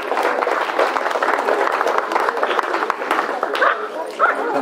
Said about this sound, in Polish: pan dyrektor Adam Radowy, ogromne brawa dla niego.